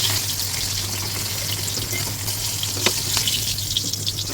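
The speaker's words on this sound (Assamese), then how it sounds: "তেলখিনি গৰম হোৱাত মই এতিয়া ভাত কেৰেলাখিনি অলপ ফ্ৰাই কৰি ল'ম।" Spine gourd and potatoes fry in hot oil in a wok, giving a soft continuous sizzle with a few small crackles and pops, close up and without talk.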